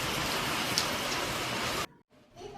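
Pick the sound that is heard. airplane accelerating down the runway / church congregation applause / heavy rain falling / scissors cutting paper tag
heavy rain falling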